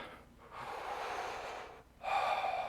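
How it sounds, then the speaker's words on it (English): Deep, slow breaths drawn in during a yoga session with a leg-raising pose, two long airy inhalations close to the mic, the second louder and sharper, with no talking. "Breathing in deep."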